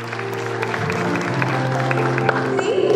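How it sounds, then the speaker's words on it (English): Applause at a school prize distribution ceremony, a continuous crowd clapping under a steady tonal background and other sound that holds even throughout. "Parents, keep on clapping for her."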